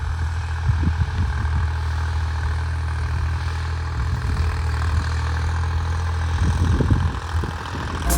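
A heavy diesel tractor engine idles steadily up close, with a deep, even throb and occasional rougher pulses.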